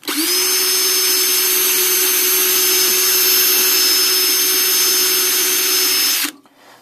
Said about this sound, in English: Now I'm gonna start by drilling my hole